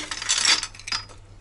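A porcelain cup from a tea set clinks in two quick bright chinks, the first louder and the second softer, close by with no talking.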